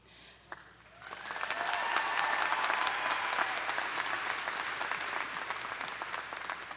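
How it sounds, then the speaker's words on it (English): Audience applause at a university undergraduate commencement ceremony swells after a second of quiet into sustained, crowded clapping that holds steady until the end. "A round of applause for our mace bearer, Dr. Lynn Shelley, Professor of Psychology."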